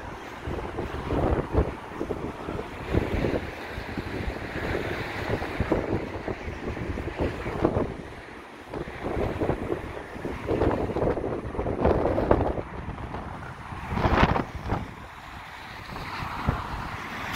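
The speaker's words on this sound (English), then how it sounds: "we've still got the wind, as you can hear." Strong wind buffets the microphone on the Blackpool seafront the day after Storm Debi, a loud, gusty roar that rises and falls in irregular rumbling blasts throughout, with no voices.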